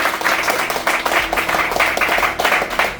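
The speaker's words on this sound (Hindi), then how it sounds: "इनके लिए दिल से एक बार जोरदार तालियां" Applause from a training-course audience in a CPU and UFS repair class, honouring the course winners: steady, fairly loud clapping with uneven bursts through the whole stretch, no voices on top.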